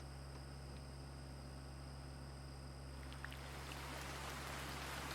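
Rain falls in American Truck Simulator, a faint steady hiss that swells in the second half over a low constant engine-like hum, with no talking.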